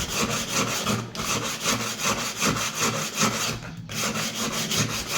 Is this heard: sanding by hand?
yes